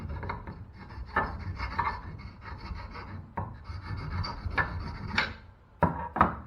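A hand file rasps over a wooden crankbait lure being shaped, giving a steady scraping rub with uneven strokes and a few sharper scrapes, close up with no talking.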